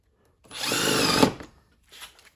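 A power drill drives a long screw through a 2x4 and the thick part of a wooden cleat in one steady whirring burst of about a second, then a short second pulse, close and loud.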